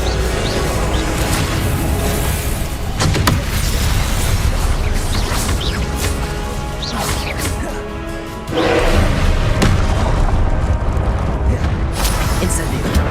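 Spells go off in rapid succession during combat in Hogwarts Legacy, making loud, dense blasts, crashes and bursting impacts with booming low rumbles. A voice shouts spell names over the explosions throughout.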